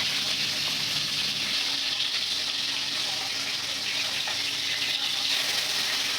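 Bata fish frying in a pan of hot oil for a Bengali fish curry, a loud continuous hiss that goes on without a break and is heard close.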